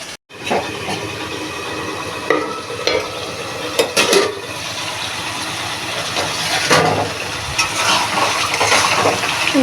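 Chicken pieces for a light curry hit hot oil in a pan with a loud, steady sizzle, broken by scraping stirs and clatter as the meat is turned.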